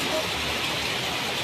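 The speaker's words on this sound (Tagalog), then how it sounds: "Malakas kasi yung ulan." Heavy rain from Typhoon Goring in Mariveles, Bataan pours down in a dense, steady roar of broadband hiss, loud and unbroken with no distinct drops.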